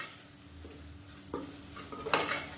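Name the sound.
sautéing turmeric and biryani masala for chicken biryani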